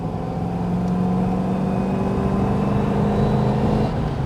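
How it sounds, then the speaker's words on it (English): Rover V8 engine in an MGB GT V8, warmed up and given a prod of throttle, rumbling steadily with a deep, even drone that holds close and loud throughout with no talk over it. "That Rover V8 makes such a lovely noise."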